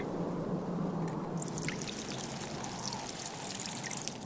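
Water poured in Lessons from Lainecrest, a steady splashing pour that grows brighter and bubblier midway, close and continuous for several seconds.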